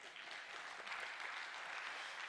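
An audience at a public talk on investment in Naju breaks into applause, a soft, even patter of many hands clapping at a distance, steady throughout.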